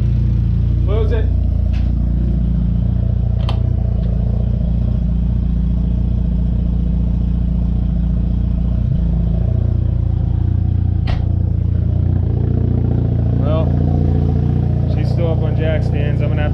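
A Mazda FD3S RX-7 rotary engine idles on jack stands, a loud, steady, slightly lumpy drone close by with brief clanks and rattles and a person talking over it.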